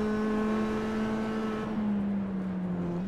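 A Mazda race car holds a steady high engine drone during a multi-class race at Sonoma. Its pitch stays level, then dips slightly and climbs again as the car lifts and reaccelerates, loud and continuous with no voices.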